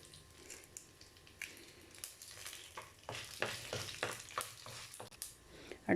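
Torn dried chillies sizzle and fry in hot oil in a pan for a radish leaf stir-fry, with close scraping and stirring strokes and bursts of crackling throughout, no voices.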